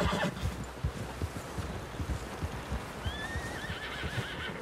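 Horse in Red Dead Redemption 2 gives a clear, wavering whinny near the end, with steady hooves clopping underneath throughout over a low background rumble.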